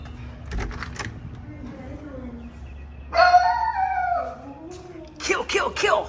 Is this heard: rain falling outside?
no